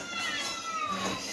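Several domestic cats indoors meowing loudly and insistently at feeding time, overlapping yowls that fill the whole moment, close and continuous with no talk over them.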